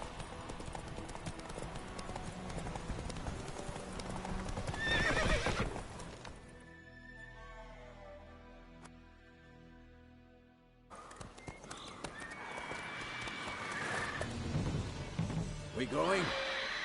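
A horse in The Witcher 3 gallops with rapid clip-clop hoofbeats and lets out a loud whinny, the galloping fading briefly before resuming, with voices calling out over the game action.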